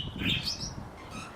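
Pet birds in an outdoor aviary give brief, soft chirps and tweets over a faint background, heard close but quiet for a moment with no voices.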